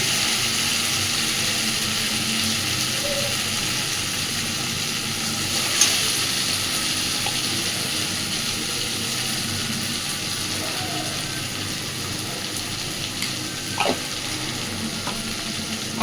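Garlic paste, chilli powder and spices sizzle steadily in a hot pan while being sautéed for a small-fish curry, a continuous close frying hiss with light stirring scrapes.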